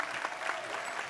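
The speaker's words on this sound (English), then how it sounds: "can we give another big, huge round of applause to the Big Boys Club?" An audience claps steadily for the Big Boys Club at an innovation event, a dense, even wash of applause for about a second with no one speaking over it.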